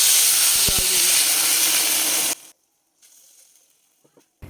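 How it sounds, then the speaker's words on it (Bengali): Food frying in a covered pan, a loud steady sizzling hiss that cuts off abruptly halfway through, leaving near silence with a few faint clicks and rustles. "খুব ভালো করে এখন এটা ভেজে নেব"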